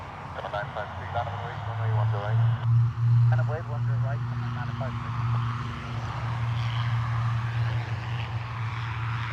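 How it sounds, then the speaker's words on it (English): An ATR turboprop airliner departs Dublin Airport for Glasgow, its propellers giving a steady low droning hum that holds throughout, with voices talking over it early on. "ATR is off to Glasgow."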